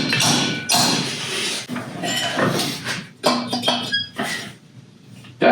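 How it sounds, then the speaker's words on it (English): Hammer striking the rear coilover spring perch on a Toyota AW11 MR2, a series of sharp metallic clanks and thuds at irregular intervals, close and fairly loud, with no talk. "Now, if we're lucky, we'll be able to hit this with a hammer."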